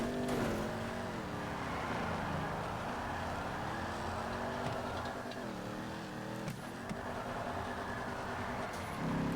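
Vapid Hotknife car in GTA 5 drives with a continuous engine drone that rises and falls in pitch as it revs, with a few sharp thuds as its rear end hits a wall.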